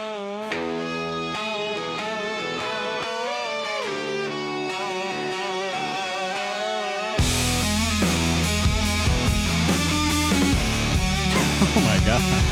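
A full-band song plays with steady melodic harmonies, then shifts to a louder, denser section with heavier drums about halfway through, continuous and without talk.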